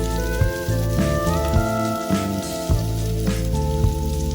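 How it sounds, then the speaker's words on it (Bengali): Chopped garlic frying in oil in a pan on a stove, giving a steady, dense crackling sizzle that runs without a break and carries occasional louder pops. "এখন চুলোয় তেল দিয়ে দিচ্ছি রসুন কুচিগুলো ভেজে নিব"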